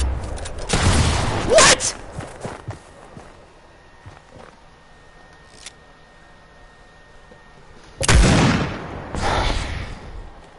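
Rapid AK rifle fire and two heavy pump shotgun blasts in a video game come in two loud bursts at the start, then a quiet stretch with faint clicks, then another close burst of gunfire near the end. A voice briefly speaks.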